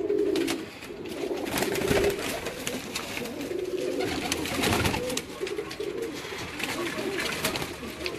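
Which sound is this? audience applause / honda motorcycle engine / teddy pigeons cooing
teddy pigeons cooing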